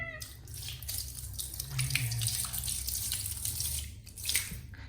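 Water splashes and pours steadily from a tap, mixed with cold water and poured over a cat during its bath, running continuously close by with small surges and drips, no talking.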